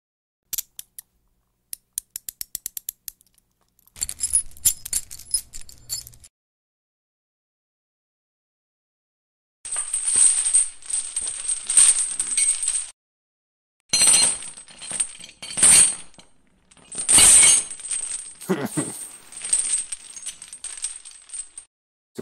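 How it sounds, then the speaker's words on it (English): Bursts of metallic chain rattling and clinking, several separate clusters with silent gaps between them, close and sharp, no voices. "Too much rattling chains. I need just like a chain pull or something."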